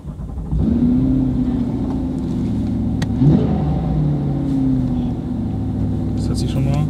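A Corvette C8 V8 fires up and settles into a loud, steady idle with a brief rev partway through, while people talk nearby over the engine.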